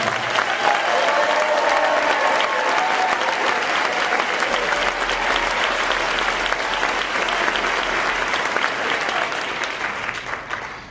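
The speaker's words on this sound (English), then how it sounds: "would you guys give a big round of applause?" Sustained audience applause at a school band winter concert, a dense steady wash of many hands clapping that holds strong for about eleven seconds before tapering slightly at the end.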